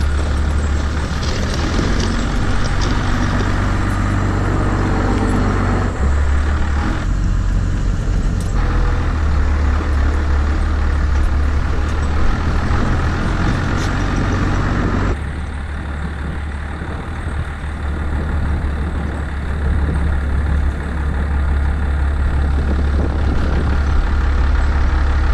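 A Cummins diesel pickup truck driving off-road in two-wheel drive, its engine running as a steady, loud, low rumble with a slight shift in tone partway through.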